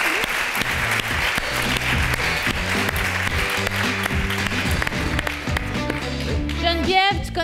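Audience applause for a woman named Karine, a dense wash of clapping running steadily through the whole stretch with music and voices mixed underneath.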